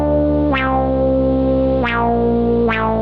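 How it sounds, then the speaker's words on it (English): Very low sawtooth synth oscillator tuned to 32 feet, with the acid box effect bypassed, drones loud and steady while a detuned second oscillator adds slow phasing sweeps that recur every second or so. "This is the sound that you hear, the very low sound that you hear when I bypass the acid box."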